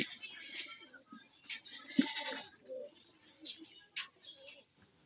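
Machranga tumbler pigeons coo softly in a loft, low throaty calls scattered among faint rustles and a sharp knock, fairly quiet and close, with a hint of a voice in the background.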